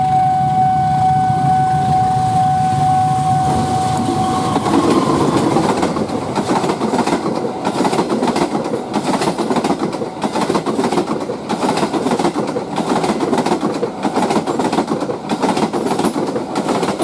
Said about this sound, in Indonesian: Iya, kereta Sawung Gali.